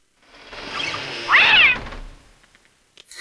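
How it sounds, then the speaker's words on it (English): A cat in the King's Quest III Redux adventure game lets out a single drawn-out, whiny meow near the middle, over a quiet backdrop with a soft thump at the end. "you grab the nasty cat by the scruff of its neck, avoiding its needle-sharp claws"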